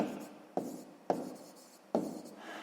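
A pen scratches out a math solution on paper in short rubbing strokes with a few small taps, quiet and close, with no voices.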